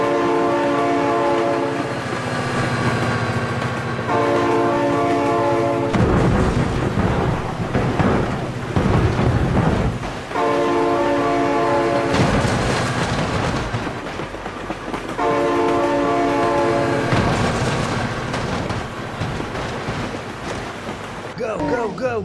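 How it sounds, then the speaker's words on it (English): A train rumbles past in the BeamNG.Drive driving game, its loud horn sounding in several long, repeated blasts over the heavy rolling roar of the cars. "Oh my god, train!"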